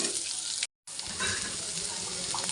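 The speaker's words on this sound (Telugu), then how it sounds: "కొద్దిగా ఆయిల్ వేడి చేసి ఆనియన్స్ వేయాలి." Onions fry in hot oil for an egg masala gravy, a steady, bright sizzling hiss close by, broken by a short gap of silence before resuming.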